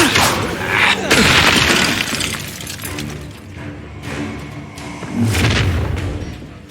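Loud magical spell blasts and explosive crashes from combat in Hogwarts Legacy, with booming bursts and shattering debris that swell, fade and return, dense and up close, a voice briefly shouting amid the chaos.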